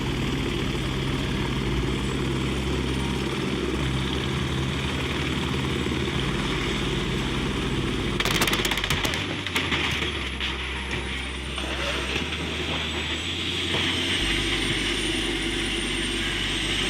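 Police helicopter at a landslide disaster scene in India, a steady loud rotor and engine drone holding throughout with a shifting low throb, no talk over it.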